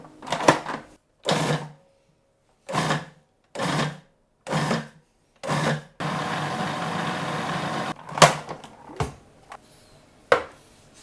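Vegan gyoza dumpling filling whirring in a food processor, driven in about six short, even pulses and then one longer steady run, close and fairly loud, with a few clunks of the lidded bowl afterward.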